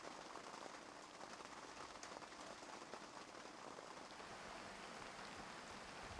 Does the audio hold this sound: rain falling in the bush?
yes